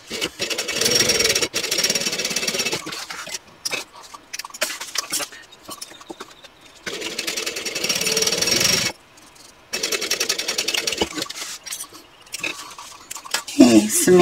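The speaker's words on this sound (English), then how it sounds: "So now I'm going to sew this on using a 1/4 inch seam allowance." A sewing machine stitches a quarter-inch seam on fabric for a handbag, running in bursts of close mechanical whirring and rattling separated by short pauses, with no talking.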